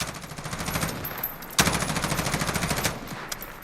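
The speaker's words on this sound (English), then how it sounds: "So I'll go fully auto here." An M16 rifle in Call of Duty Modern Warfare fires on full auto in a steady, rapid stream of loud, close shots lasting several seconds, with one sharper crack partway through.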